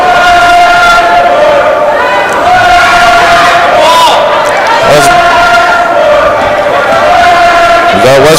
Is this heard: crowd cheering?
yes